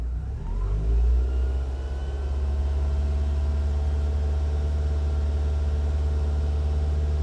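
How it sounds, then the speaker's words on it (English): A Ford Focus engine, idling with two headlights on and a suspected failing alternator, revs up sharply near the start and then holds a steady, loud, close drone with a low rumble, with no talk over it. "And I'm gonna rev the engine up."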